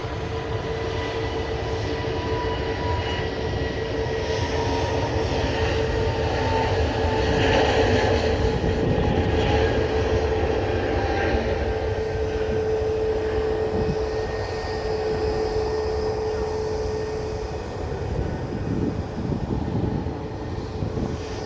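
An airliner making a rolling takeoff at Manchester Airport on its way to Copenhagen, a steady loud engine roar with a sustained whine that swells slightly midway and holds on throughout.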